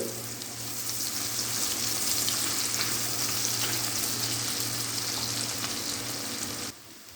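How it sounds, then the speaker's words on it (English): Chopped onions fry and brown in hot oil for Bhai-style mutton biryani, a steady dense sizzle that holds evenly for several seconds and then drops away abruptly near the end. "So my onions need to brown well."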